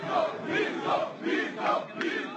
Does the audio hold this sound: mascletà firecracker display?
no